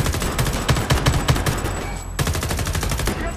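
Dense gunfire from the video game Homefront The Revolution: rapid overlapping automatic bursts and single shots crackle loudly and continuously, with a brief lull before the shooting resumes.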